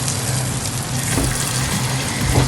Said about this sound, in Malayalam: ഇപ്പോൾ എണ്ണ ചൂടായിട്ടുണ്ട്. ഞാൻ അതിലേക്ക് ഓരോ തവി വെച്ച് ഞാൻ കോരി ഒഴിക്കുകയാണ്.